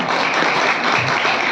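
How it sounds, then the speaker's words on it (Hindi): A crowd at a devotional satsang claps steadily in dense, even applause for the dholak player, loud and continuous with no gaps. "एक बार हमारे ढोलक वाले के लिए ताली हो जाएगी।"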